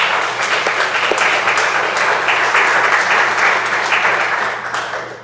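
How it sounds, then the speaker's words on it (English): An audience at a campus event on race and racism in the classroom gives a round of applause, a dense, sustained wash of clapping that stays loud throughout and then tapers off at the end. "If you can give them a round of applause."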